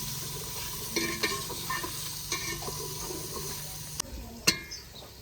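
Masala with tomatoes frying in a pan, a soft, close sizzle broken by several scraping stirs of a spoon against the pan, with a sharper knock near the end.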